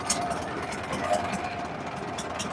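A trawler boat's engine runs steadily on a river ferry crossing, a continuous mid-level drone with a faint rhythmic knock throughout, with no talk.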